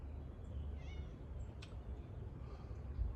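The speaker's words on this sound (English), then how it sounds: "Oh, you have two cats. That's the black cat." A black house cat gives a short, faint meow over steady low outdoor background noise in a garden, with a brief higher chirp partway through.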